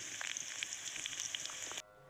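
Green chillies frying in hot clean oil for a village-style meal, a steady close crackling sizzle with scattered pops that cuts off abruptly near the end.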